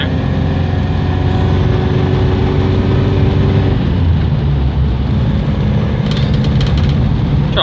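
A warmed-up Morris Oxford engine pulls steadily while driving, a loud, throaty drone that shifts pitch partway through as the car changes speed. Road and wind noise sit under it.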